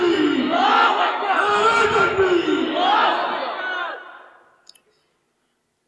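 A large gathering answers a takbir call with a loud, swelling collective chant of Allahu Akbar during a religious sermon, repeated in waves before fading into near silence.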